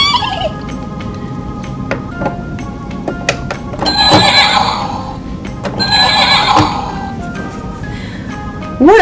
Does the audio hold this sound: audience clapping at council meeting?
no